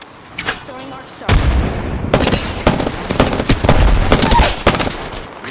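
Apex Legends arc star thrown and detonating amid a firefight, with sharp electric bursts and booming blasts layered over repeated gunfire, loud and close.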